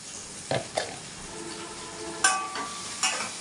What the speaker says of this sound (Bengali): এই দেখো সব সবজি কেটে নেওয়া হয়েছে সেগুলো এবার দিয়ে দেবো